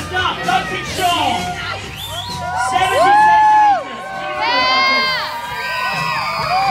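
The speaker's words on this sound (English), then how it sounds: "If you scream a little bit louder for Duncan, you might notice it" A crowd at a bike stunt show on the Danny MacAskill Drop and Roll Tour at the Sea Otter Classic cheers and shrieks loudly in rising waves, with children's high-pitched yells standing out.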